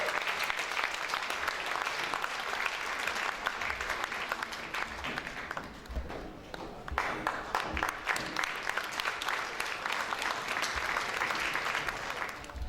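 A concert audience gives sustained applause for a youth ensemble of folk singers: dense clapping from many hands, continuous over the whole stretch with a brief dip midway, moderately distant.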